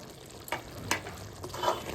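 Prawn curry being stirred in a pan after chopped coriander leaves are scattered on top, heard as a few soft scraping strokes with a faint sizzle in between, close by with no talking.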